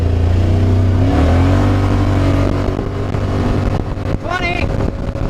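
A Yamaha Wolverine X4 side-by-side climbs a steep hill, its engine droning loud and close with a rising pitch as it accelerates, under wind rush.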